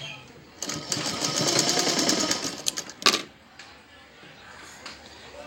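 A sewing machine stitches fabric in a steady whirring run. It stops, gives a short burst and then taps a few times, while someone talks.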